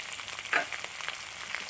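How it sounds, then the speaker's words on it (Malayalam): Finely chopped shallots fry for a curry in a pan, giving a faint, steady sizzle with a few small crackles. "ചെറിയ ഉള്ളി ചെറുതായിട്ട് അരിഞ്ഞ് ചെറിയ ഉള്ളി ഇട്ട് കൊടുക്കും"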